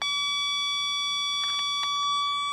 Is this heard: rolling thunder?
no